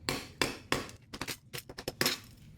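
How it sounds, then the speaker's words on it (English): Sharp cracks and pops from a pane of glass breaking apart after being struck, several distinct impacts followed by a cluster of smaller crackling snaps and tinkles, close and loud. "the glass pretty much just disintegrates"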